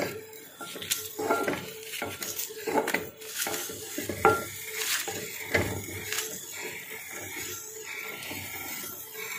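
Kushta shingarf is ground in a kharal mortar with a pestle, making repeated scraping and knocking strokes in an irregular rhythm, close and fairly loud, with no talking.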